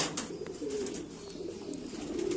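Pigeons coo softly at close range, several low throaty coos in a gentle rolling rhythm over faint background noise and a few light chirps, no speech.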